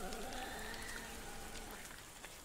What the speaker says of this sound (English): Then the rain came. For days and nights it poured down over the forest,